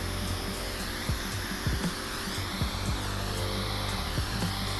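A scalp mist device warms a man's scalp during a head spa treatment, giving a steady, close airy hiss with faint intermittent clicks throughout.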